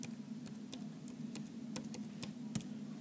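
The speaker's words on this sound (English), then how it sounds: "So I'll just type it in here." Keys clatter on a computer keyboard as someone types a word, a quiet run of irregular clicks spread over about three seconds with a few sharper taps and a low steady hum beneath.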